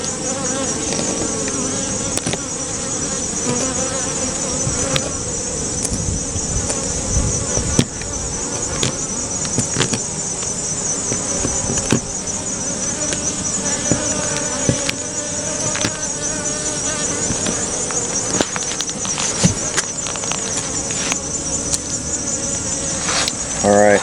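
Honey bees buzzing around hives housed together in one box, a dense, continuous humming drone close to the microphone, with scattered clicks and knocks over the steady buzz.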